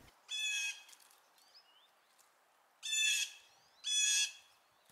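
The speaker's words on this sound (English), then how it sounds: "I heard a jay." Blue jay calling in spring woodland, three loud harsh raspy bursts separated by pauses, with faint softer chirps between them in quiet surroundings.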